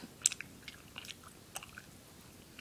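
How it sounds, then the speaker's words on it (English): A child chews food close by, with faint crunches and soft bites scattered over a few seconds of otherwise quiet room tone. "Wait till you're done chewing."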